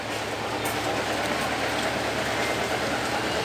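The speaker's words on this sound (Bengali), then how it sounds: "বৃষ্টি পড়া শুরু হয়ে গেছে" Rain begins falling outdoors under an overcast sky, a loud, even hiss of drops filling the whole stretch with no voices.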